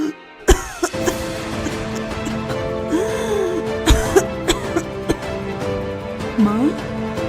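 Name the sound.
woman coughing badly in a cartoon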